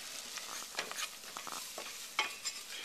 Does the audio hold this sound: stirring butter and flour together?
yes